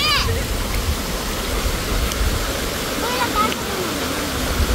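A jungle stream flows with a continuous close rush and splash of water, steady in level throughout, with faint chirps over the top and no talking.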